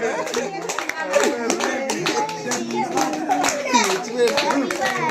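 Hands clapping together at a family sixtieth birthday celebration as the cake is cut, quick irregular claps from a small group mixed with children's voices and chatter close by.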